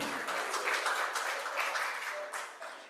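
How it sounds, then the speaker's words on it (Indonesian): Scattered audience clapping at the opening of a branch meeting, moderate and somewhat distant, with uneven bursts that thin out toward the end. "tepuk tangan ya loh."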